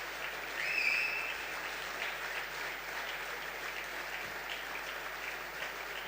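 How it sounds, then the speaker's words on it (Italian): An audience at a Barcolana event in Trieste applauds in a dense, steady wash of clapping that holds evenly throughout, with no voices on top. "un grande applauso vada fatto a Mitia"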